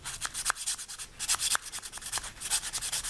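Ballpoint pen body pressed and rubbed around a part on a barn-find 1972 Honda CB450 cafe racer, giving a rapid series of short scratchy rubbing strokes at close range, steady and fairly quiet with no talking.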